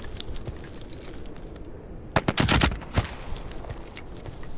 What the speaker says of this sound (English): Yeah, it's an SMG, but I'm still popping that guy.